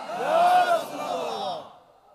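A crowd at a Bangladeshi Islamic sermon gathering shouts a religious slogan back together in one loud, swelling bellow of many voices that peaks early and fades out within about two seconds.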